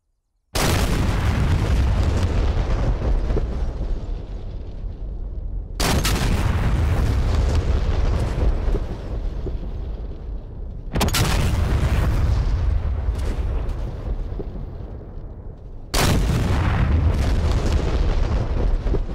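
Vehicles in the DCS flight simulator video game are destroyed in four big, loud explosions spaced several seconds apart, each one a sudden boom followed by a long rumbling roar that slowly fades.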